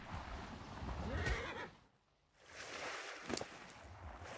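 A horse neighs loudly twice in ARK: Survival Evolved (Ragnarok map, PC), a drawn-out whinny followed by a short gap of near silence and then another whinny.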